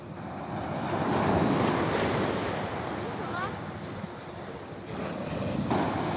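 Ocean waves and wind at San Carlos Beach, California, with steady broadband surf wash and gusty wind noise buffeting the microphone, continuous throughout with a swelling rise near the start.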